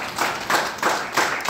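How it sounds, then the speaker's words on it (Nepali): An audience claps to welcome guests on stage, beating together in a steady rhythm of bright bursts. "जोरदार तालीले स्वागत गरौँ।"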